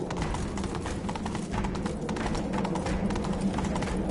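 Roach the horse gallops in The Witcher 3, a fast steady clip-clop of hooves running continuously at close range with no speech.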